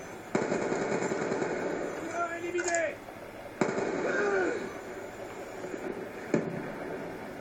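In Black Ops 2, the ANG94 weapon fires as bursts of shots crack out sharply three times, each followed by a sustained rattling roar. The gunfire is loud and near, and a game voice is partly heard over it.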